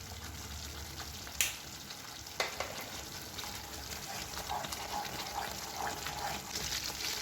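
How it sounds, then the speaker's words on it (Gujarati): Pineapple semolina halwa cooks in a pan as water boils off, giving a soft, steady bubbling and sizzle, with occasional spoon taps and scrapes from stirring. "જ્યાં સુધી પાણી બળી ના જાય ત્યાં સુધી એને હલાવ્યા કરીશું."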